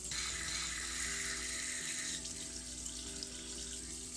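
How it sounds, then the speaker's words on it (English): Tap water running through a metered dose inhaler's plastic shaft and cap, a steady hissing splash of water into a sink that continues unbroken at low level. "Next, run clean water through the inhaler shaft and in the cap."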